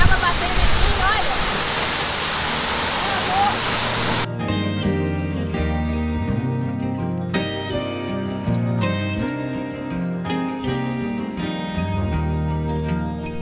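Waterfall crashing down at Cachoeira Roseira in Brotas, São Paulo, a loud, steady roaring wash up close for several seconds before music takes over.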